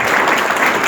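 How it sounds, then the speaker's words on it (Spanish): Audience applause for speakers at a union (CGT) gathering, a brief dense wash of many hands clapping steadily at close range, with no talk over it. "un aplauso muy grande a Martín"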